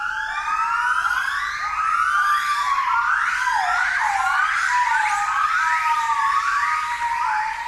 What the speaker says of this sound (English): Even though these family groups only consist of up to 8 gibbons, the sound can be deafening.